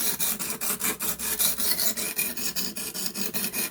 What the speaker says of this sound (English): this stone here is making very short work of the D2